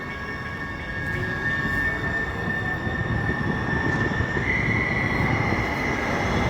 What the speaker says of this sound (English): I'm at the railway station and I am going back.